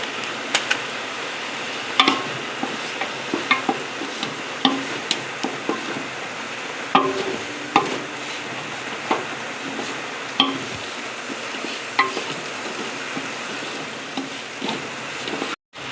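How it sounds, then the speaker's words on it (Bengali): Khichuri with turmeric being stirred in a pot gives a soft continuous sizzle under scattered spoon scrapes and taps against the pot, repeating steadily for a long stretch without talk. "খিচুড়ি নেড়েই যেতে হবে, নাহলে নিচে লেগে যায়, তাই আমি নেড়ে যাচ্ছি একটু করে।"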